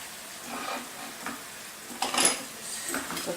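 Chicken lollipops are stirred in a pan of sweet and spicy chilli sauce, with soft sizzling broken by a few scraping strokes and light clinks of a utensil against the pan.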